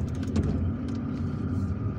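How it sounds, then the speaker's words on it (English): Road traffic in Algiers on a spring afternoon, a steady low rumble of cars and engines passing at moderate distance with no talking. "Now it seems that there is traffic even over there"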